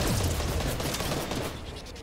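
Shooting in Fortnite during the Season 7 plasma cannon update, a dense barrage of close, loud shots that blur together and ease off slightly toward the end.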